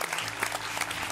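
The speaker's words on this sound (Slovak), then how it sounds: "teraz poprosím veľký potlesk pre tú, ktorá musí zvládnuť viac ako ja" Audience applause at a live stage show, dense steady clapping from a crowd that continues evenly throughout at close range.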